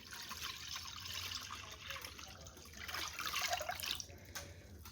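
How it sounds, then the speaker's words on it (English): Half and half, a mix of milk and heavy cream, is poured into a pot of melted white chocolate chips for hot cocoa, giving a faint continuous liquid trickle and splash that swells briefly near the end. "Now we're going to add in 4 cups of half and half, which is half milk, half heavy cream."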